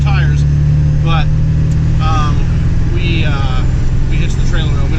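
A 1999 Ford F-250 Super Duty pickup rolls along on new Nitto tires with a low, steady engine and road drone from inside the cab while people talk over it.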